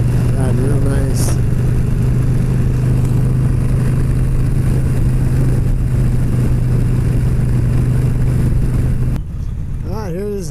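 A motorcycle climbs a hilly road toward Jalama Beach, its engine droning loud and steady under heavy wind rush, easing off near the end.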